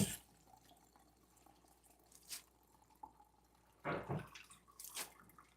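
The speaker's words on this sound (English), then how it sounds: "we're gonna take them and drain them" Water drips and splashes in short, faint bursts as vinegar-soaked greens are drained, a few close, scattered trickles over a quiet background with no talk.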